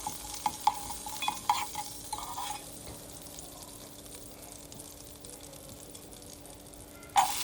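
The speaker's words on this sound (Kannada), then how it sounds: "1 ಟೇಬಲ್ ಸ್ಪೂನ್ ಎಣ್ಣೆಯನ್ನು ಹಾಕಿ ಅದಕ್ಕೆ ಸಾಸಿವೆ, ಹಿಂಗು, ಸ್ವಲ್ಪ ಕರಿಬೇವು ಹಾಕ್ಕೊಂಡು ಸ್ಟಿರ್ ಮಾಡ್ಕೊಳ್ಳಿ." Mustard seeds, asafoetida and curry leaves frying in about a tablespoon of oil in a pan while being stirred, with a steady close sizzle, light scraping clicks of the spoon early on and a louder clatter at the end.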